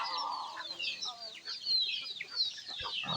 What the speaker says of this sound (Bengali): এই যে বলতে বলতে এখানে কিন্তু মুরগি হাজির হয়ে গেছে